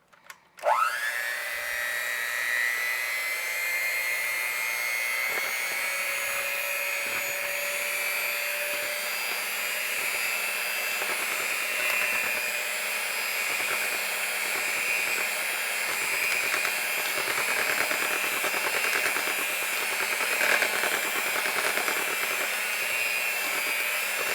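An electric hand mixer whirs steadily through Betty Crocker Super Moist yellow cake batter, starting abruptly and holding a constant high-pitched motor drone throughout with no talking.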